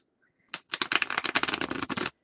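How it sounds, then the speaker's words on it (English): A deck of stiff, thick tarot cards riffle-shuffled up close, a quick crisp flutter of snapping cards lasting about a second and a half, with no talking. "now that I'm shuffling them, they're a little hard to shuffle."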